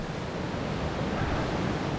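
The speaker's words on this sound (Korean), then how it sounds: "물소리가 너무 커가지고" A mountain stream swollen with rain rushes loudly along a rocky valley in Bukhansan, a dense, steady roar of water filling the whole moment with no voices over it.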